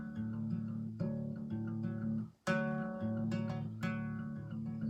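An acoustic guitar plays a repeating fingerpicked pattern, plucked notes ringing clearly with a brief pause midway before the pattern resumes.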